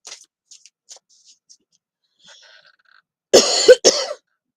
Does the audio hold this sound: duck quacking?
no